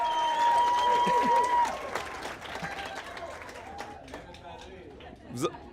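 Wedding guests applaud during a groomsman's speech, a loud, dense burst of clapping with cheers and crowd chatter that fades after a couple of seconds into scattered voices and a few whoops.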